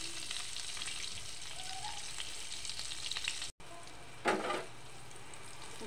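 Eggplant slices frying in hot oil in a home kitchen pan, a steady close sizzle throughout with a brief louder burst of spitting near the end and a short gap partway through.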